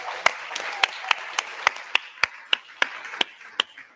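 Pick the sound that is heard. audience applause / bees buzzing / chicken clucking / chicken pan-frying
audience applause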